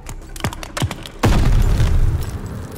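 Grenade blast in the World War II shooter Call of Duty: Vanguard, a sudden loud boom that breaks into a sustained rumbling roar after a few sharp thuds and clicks.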